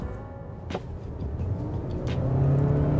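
A 2020 Honda Accord with a 1.5-litre turbo engine rated at 201 horsepower accelerates, its rumble building steadily and growing louder toward the end.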